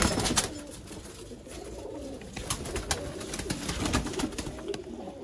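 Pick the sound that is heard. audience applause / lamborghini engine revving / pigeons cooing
pigeons cooing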